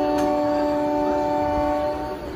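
A Bhadrak–Cuttack MEMU passenger train arrives at a railway station, with a loud sustained multi-tone horn blaring over steady rumbling wheels, then easing off slightly near the end.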